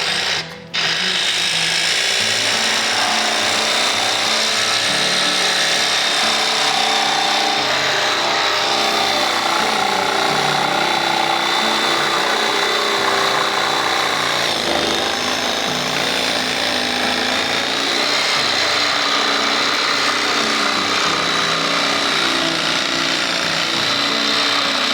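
Jigsaw sawing steadily through a drawn line on wood, a continuous loud buzzing motor whine with reciprocating blade chatter that runs without pause for the whole stretch, no talking over it.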